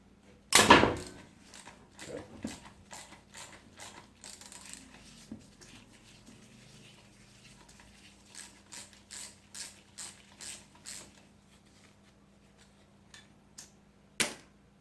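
A ratchet clicks in bursts of rapid, distinct pawl ticks while breaking a socket loose on a 4x4 transfer box, close and moderately loud, with a sharp knock near the start and another near the end.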